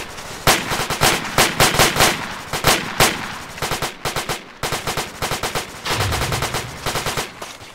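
Sustained automatic gunfire crackles in a military video game. Loud bursts of rapid shots repeat in close succession, with short pauses and a heavier rumbling burst near the end, and no talk.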